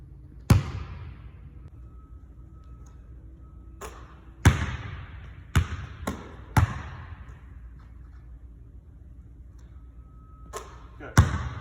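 Basketball shots in a one-handed form shooting drill: sharp isolated thumps and rim or net hits ring out at irregular intervals in a quiet gym, with faint talk in the background.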